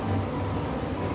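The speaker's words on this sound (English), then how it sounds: "sorry about the noise, it's ventilation" Workshop ventilation gives a steady, loud low rumble and broadband hiss with no breaks or other sounds.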